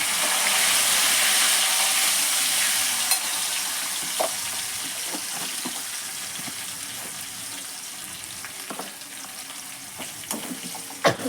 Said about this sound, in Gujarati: હવે આપણે આની અંદર કાંદા એડ કરી દઈશું ફ્રેન્ડ્સ. હવે આને આપણે સાતળવા દેવાના છે.